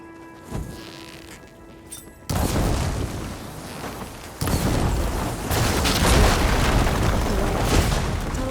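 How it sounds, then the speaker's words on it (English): Blaze barrels blowing up after fire ammo hits them in Horizon Forbidden West: a sharp blast that jumps to a loud roaring rumble, then a second heavier explosion that keeps rolling with crackling debris. "Hitting those blaze barrels with fire ammo should do the trick."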